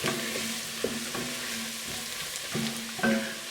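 A spoon stirs sprinkled flour into a buffalo chicken soup base with carrots in a pot, soft scraping strokes repeating over a faint steady sizzle, close and fairly quiet with no voices.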